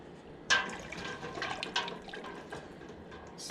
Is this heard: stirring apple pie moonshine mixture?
yes